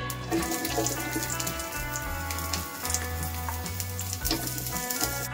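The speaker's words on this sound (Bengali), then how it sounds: "এতে আমি কুচানো পেঁয়াজ ভেজে নেব।" Chopped onions frying in hot oil in a wok, a steady close sizzle that continues throughout alongside low rhythmic background music, with no talking.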